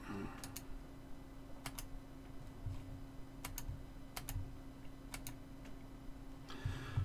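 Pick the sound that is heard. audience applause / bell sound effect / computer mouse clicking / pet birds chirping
computer mouse clicking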